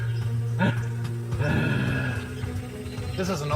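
A hunter in the Pantanal imitates a female jaguar's mating call, a few rough, grunting calls, throaty and close, with short gaps between them.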